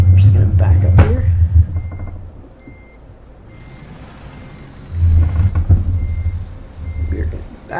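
A Western Star 49X truck in American Truck Simulator backing up, with evenly spaced high electronic reversing beeps over a low diesel rumble that swells and fades.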